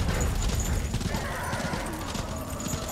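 Horse hooves clip-clop in the Darksiders 2 video game, a steady run of dull thudding steps close up over a dense game soundscape, with no talk.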